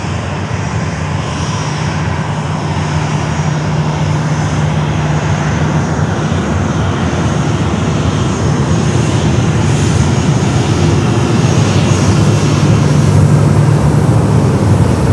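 A United airliner's jet engines roar loud and close at Fort Lauderdale airport, a steady, dense rumble that holds unbroken throughout.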